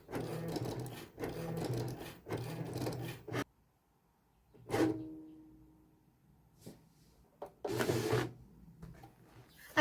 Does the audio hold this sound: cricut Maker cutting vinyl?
yes